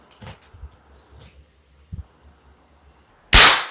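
A 1980s Dong San Model M60 miniature light machine gun cap gun is cocked, then fires one loud, sharp bang after a few soft handling clicks and taps.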